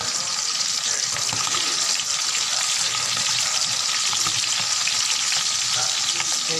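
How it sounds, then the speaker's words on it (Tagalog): Sweet potato leaves frying in a pan with oyster sauce and soy sauce, a loud steady close sizzle that holds without pause throughout. "Atin muna ito piprito guys"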